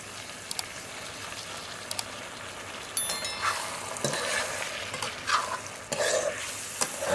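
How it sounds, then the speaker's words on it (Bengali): Chilli chicken sauce mixture poured into a hot pan with softened capsicum, sizzling steadily while a utensil scrapes and stirs, with brief louder splutters as the liquid hits the oil. "যে সসের মিক্সচারটা বানিয়ে রেখেছিলাম সেটা এখন দিয়ে দিচ্ছি।"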